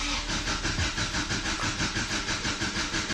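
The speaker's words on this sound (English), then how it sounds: "I'm just gonna crank it over a little bit to get some oil back through that turbo." A Subaru Baja engine with a VF48 turbo cranks over with the fuel pump fuse pulled, the starter churning in a fast, regular rhythmic pulse without catching, close and continuous.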